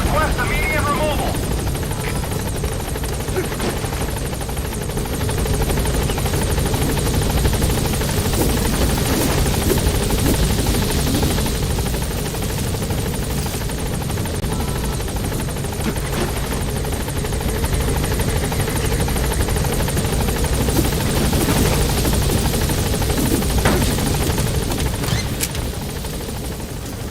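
The Pequod helicopter in a video game hovers near a blocked landing zone, its loud continuous rotor thrum filling the whole stretch with faint gunfire-like crackles, while a radio voice talks over it.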